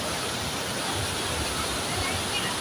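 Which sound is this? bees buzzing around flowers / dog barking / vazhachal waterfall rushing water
vazhachal waterfall rushing water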